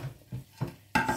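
A plate is picked up and handled beside a Tefal OptiGrill+ GC706D34 contact grill, giving a few close, light ceramic knocks and scrapes followed by a louder clattering contact near the end.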